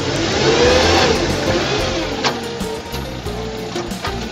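A car engine close by, held at high revs with a steady mid-pitched drone before pulling away in first gear. The roar dips and swells slightly as the throttle shifts.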